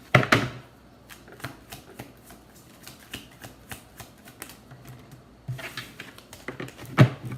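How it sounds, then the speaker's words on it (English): A deck of cards being shuffled during a live reading, with close, crisp riffling bursts at the start and end and scattered light card snaps and taps between them. "I'm gonna shuffle this better because I feel guided to do so."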